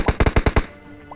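Rapid sniper rifle fire in a mobile battle royale shooter, a Kar98 against an AWM, five sharp loud shots within about half a second, followed by a quiet tail with no talk.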